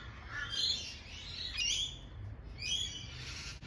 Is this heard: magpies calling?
yes